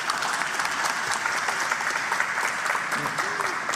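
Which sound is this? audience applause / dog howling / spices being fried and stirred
audience applause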